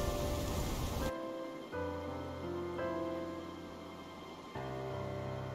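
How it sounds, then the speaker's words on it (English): Steady rain falls in a video game, a dense even hiss that cuts off sharply after a second, leaving quieter background tones and music. "Well, looks like this rain isn't stopping anytime soon."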